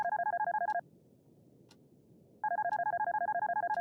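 A telephone rings in the Darkness Within video game, two long trilling bursts separated by a pause, clear and fairly loud against a faint low background.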